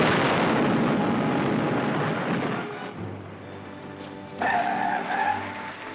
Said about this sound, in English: Wasn't that an explosion?